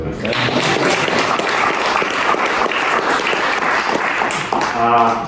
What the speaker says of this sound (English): You can clap for those guys